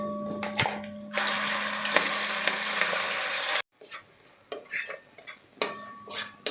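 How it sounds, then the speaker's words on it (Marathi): Masala paste for Katachi Amti sautéing in a pan with curry leaves, heard as sizzling and metal spoon stirs and clinks, with a sudden drop to quieter intermittent scrapes partway through; no talking. "जे वाटण आपण घातलं होतं ते छान परतून झालेलं आहे"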